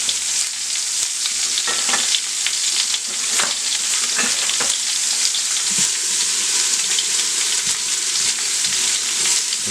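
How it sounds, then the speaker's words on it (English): Garlic sizzling in oil inside a pressure cooker pot, a steady close crackling hiss broken by a few sharper pops and stirring scrapes, with no one talking. "I'm going to put my garlic in there. And let that cook for a second, just sweat."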